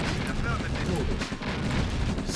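Explosions from a Command & Conquer: Red Alert battle as units destroy enemy barracks: a dense, continuous rumble of booms and blasts with layered impacts throughout, loud and close with no clear gaps.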